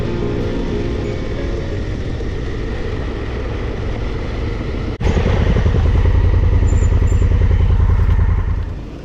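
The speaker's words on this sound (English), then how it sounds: "He and his best mate Rob are riding brand new Husky 501s" Brand new Husqvarna 501 motorcycles on a group ride, their engines droning loud and steady, then a sudden jump into a harder, louder roar as the throttle opens about halfway through.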